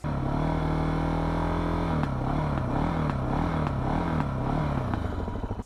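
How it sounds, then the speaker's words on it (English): A Suzuki DR650 motorcycle engine, recently drowned and just restarted, runs loud and close, held steady and then revved in quick repeated surges, with light mechanical clatter. "just keep your revs up, don't let it die down"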